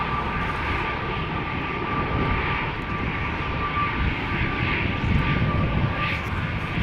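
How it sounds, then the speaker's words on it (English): A KLM Embraer 195-E2 jet, about two years old, sits lined up for takeoff at Schiphol. Its engines give a steady, broad roar with a faint tonal whine, continuous and fairly distant, with no talk over it. "E2 Embraer lined up, ready to go."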